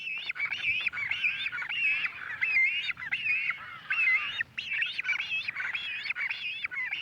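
Frigate birds call at their island nesting colony, a dense chorus of nasal, honking cries that overlap continuously at moderate loudness with no talking.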